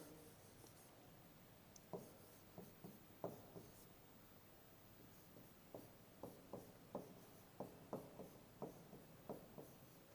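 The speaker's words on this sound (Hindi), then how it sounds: "मैं यहाँ पे लिखता हूँ इस शब्द को" A word being written on a board in a classroom: a quiet run of short, tapping and scratching strokes, sparse at first and then quicker and evenly paced, close by without talk.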